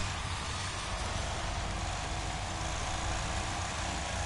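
Car engine in the demolition racing game Wreckfest, running steadily with a dense, loud rumbling drone and broadband roar that holds constant for several seconds, no talking over it.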